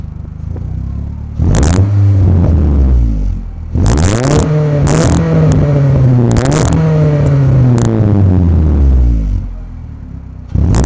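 A 2002 Nissan Altima 2.5S with full exhaust and race header revs hard in several bursts, loud and close, with deep rumbling blips that rise and fall before settling to idle.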